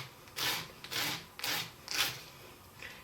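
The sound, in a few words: small file smoothing burrs on earring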